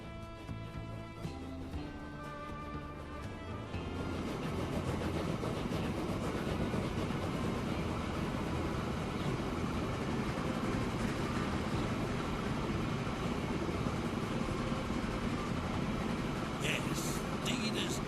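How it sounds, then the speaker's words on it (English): Train rolling along rails in the Transport Fever 2 game, a steady broadband rumble that rises after a few seconds of musical tones and holds level to the end, with the game's music and a voice over it. "The first train is rolling down the line."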